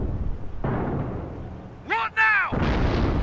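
Anti-tank gun fire in the Company of Heroes: Opposing Fronts game at Caen, a sharp blast opening then another heavy report, with a shouted voice between them.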